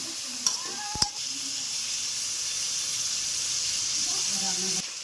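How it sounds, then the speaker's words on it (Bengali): Chicken pieces fry in a pan for chicken fried rice, a steady close sizzle and hiss with a couple of sharp utensil knocks early on and a voice speaking faintly underneath. "এবার মাংসগুলা সব একটু ভেজে নিব।"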